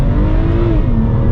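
A BMW E90 335i engine revs hard on a test drive, a loud, sustained, close interior drone with pitch rising and then dipping as the driver shifts gears.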